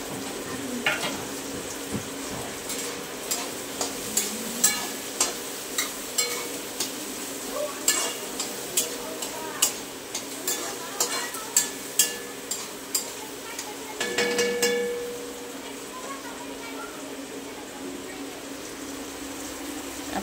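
Onion, tomato and green chilies sauté in a pan for egg bhurji, giving a steady sizzle punctuated by regular spatula taps and scrapes, with a louder burst near the end.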